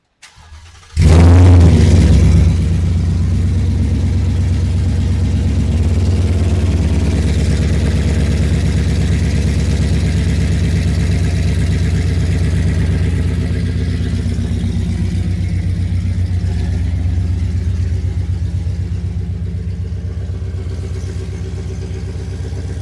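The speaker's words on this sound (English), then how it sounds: "Let the oil warm up. That way it'll drain better. So let's go ahead and turn it on." A 2019 Ford Mustang GT V8 cranks and fires up loudly, then settles into a steady, deep idle rumble that runs on alone with no talking.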